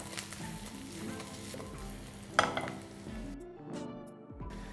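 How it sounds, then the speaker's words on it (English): Pieces of ginger and broken green chili fry in a pan, tossed lightly for a spicy Nagpur-style chicken curry, giving a steady close sizzle with a clatter near the middle before the sound drops as the flame goes off. "we add in pieces of ginger. With this, a spicy green chili broken into bits. We toss this lightly"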